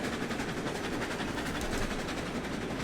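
A steam-era train in the railroad sim Railroads Online rumbling steadily at low volume, a continuous rolling clatter with a faint rhythmic pulse and no talk over it.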